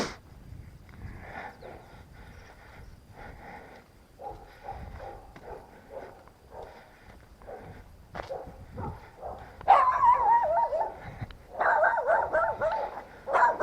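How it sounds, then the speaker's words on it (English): A farm dog barks repeatedly at a distance, a string of yips and barks in irregular bursts that grow louder and closer toward the end, with some whimpering mixed in. "That's the farm dog barking there."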